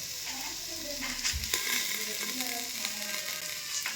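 Pepper sizzling in hot oil for white pulao, a steady crackling fry with a few sharp spits and stirring clatter, close up and fairly loud, no talking.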